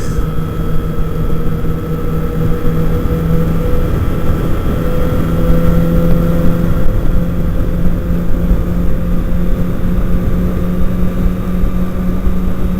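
A 2008 Kawasaki Ninja ZX6R motorcycle drones at steady speed while riding, a loud sustained engine hum with wind rush and no voices.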